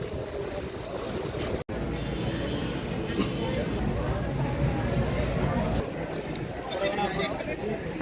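Muddy sea water near the Gateway of India slaps and surges against the shore in an ongoing washing rumble with swells of splashing, while a voice talks over it.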